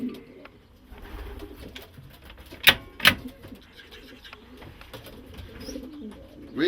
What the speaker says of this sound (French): j'ai un pigeon de Marseille